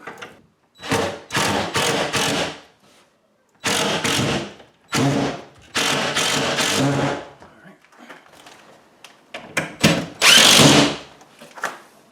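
A power drill tightens screws into a drywall electrical box in about five short, loud, close bursts separated by brief pauses.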